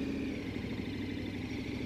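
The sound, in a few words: KTM 1290 Super Adventure motorcycle engine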